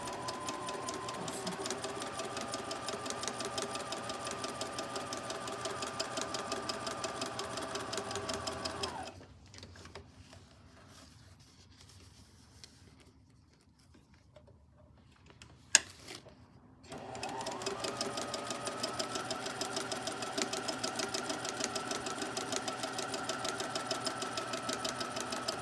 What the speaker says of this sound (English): now I'm going to sew 1/4 inch from each side of the drawn line